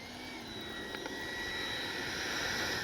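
A Freewing 90mm F-22 RC jet with electric ducted fans flies past with a high, steady whine and airy rush, heard from a distance and swelling slightly, with no voices.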